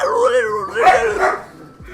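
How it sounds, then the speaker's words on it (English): Angry dogs bark and yip in a short, close burst of a few sharp barks, tangled with a person speaking at the same time. "The dogs got angry."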